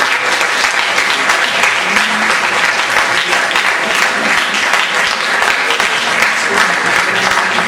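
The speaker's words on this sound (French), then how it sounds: "Je voudrais vraiment qu'on remercie, applaudisse" Sustained, loud applause from a school conference audience thanking the presenters, dense and steady clapping throughout with no voices standing out.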